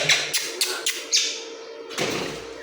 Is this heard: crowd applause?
no